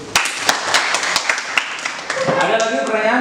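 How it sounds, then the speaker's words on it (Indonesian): A small group in a classroom claps briefly in scattered, uneven hand claps, then a voice starts talking as the clapping fades. "tepuk tangan dulu"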